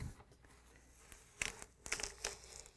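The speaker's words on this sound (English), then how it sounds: "I'm going to slice that foam. I'm going to cut through." A blade slices through the foam of a Whirlpool refrigerator fresh food door gasket, making faint crinkling and tearing sounds with a few sharper crunchy snaps heard close up.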